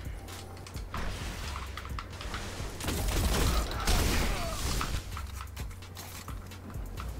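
Rapid automatic gunfire from the TLALOC weapon in a video game, a dense rattling stream of shots that swells louder in the middle and trails into scattered bursts.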